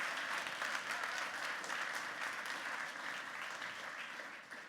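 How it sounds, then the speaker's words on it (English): An audience at a startup accelerator demo night gives a steady round of applause, an even wash of clapping that tapers only slightly toward the end. "So if we can give them a round of applause again too,"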